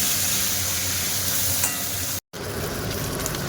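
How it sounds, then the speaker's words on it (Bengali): Potatoes frying in a pan for a home-cooked chicken dish, a loud, continuous sizzle and crackle close by, broken by one brief silent gap before the frying resumes. "এখন চলছে এখানে আলু ভাজা"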